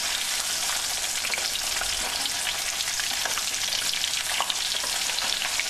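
Fish sizzling in a small amount of oil in a pan, village-style home cooking, with a dense, steady crackle and spatter of frying heard close up, with no voices.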